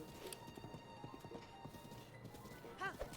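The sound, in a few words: horse hooves galloping in the video game Breath of the Wild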